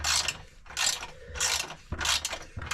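A socket wrench ratchets in short scratchy bursts while backing out long 12 mm flange bolts during a Warn winch install on a Talon, about five quick clicking runs close to the microphone.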